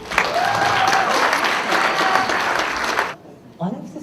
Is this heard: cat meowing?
no